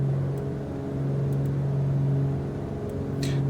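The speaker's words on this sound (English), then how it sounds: "as much as I do love these engine sounds" Steady droning hum of a Beechcraft Duke's twin piston engines in a flight simulator, holding a constant low tone throughout with faint radio clicks above.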